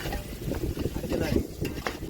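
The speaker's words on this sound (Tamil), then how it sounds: "பேஸ்ட்டு, இஞ்சி பூண்டு பேஸ்ட்டு போட்டுக்குருவோம்" Ginger garlic paste stirred in hot oil in a pot for chicken biryani, with brief scraping strokes over a soft sizzle, close by.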